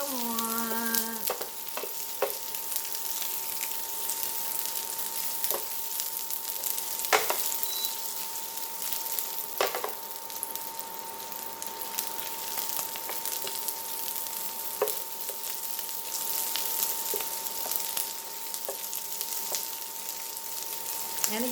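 Onions browning in a pan for beef Burgundy, a steady close sizzle throughout with intermittent clicks and scrapes of stirring, and a brief voice near the start.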